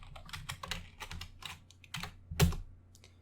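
Fingers tap out an irregular run of keystrokes on a computer keyboard, quiet and close, with one sharper, louder key press near the end.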